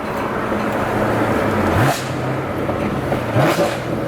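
A Corvette C7 Z06 fitted with longtube headers blips through two quick downshifts, each a sharp rev rising over a loud, steady engine drone heard from inside the car.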